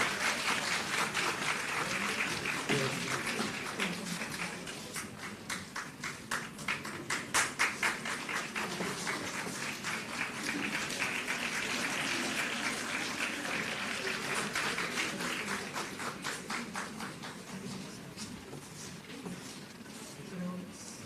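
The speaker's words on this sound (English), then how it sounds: "Students, a big round of applause" A student audience at a university moot court competition applauds a speaker, steady sustained clapping filling the room for about twenty seconds, with a brief louder swell midway before tapering slightly.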